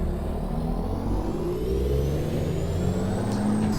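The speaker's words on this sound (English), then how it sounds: "Listen to that gorgeous engine." A Kenworth W900 truck engine in American Truck Simulator drones steadily and loud, its pitch rising slowly as it accelerates, with no talk over it.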